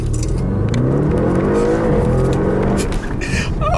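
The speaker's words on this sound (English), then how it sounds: "I'm going to put it in dynamic mode because I just mentioned all those power numbers. We are in the RS7 Performance, so I think it's about time for a good acceleration here" A 2017 Audi RS7 Performance in dynamic mode accelerates hard, its engine rising in a loud, rumbling roar through the gears, heard from inside the cabin.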